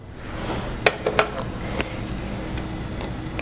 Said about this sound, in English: I'm going to go ahead and take my funnel and place it in my next jar